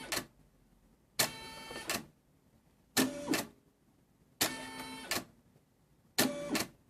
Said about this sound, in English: That is the machine showing me the space where it will be embroidering the word.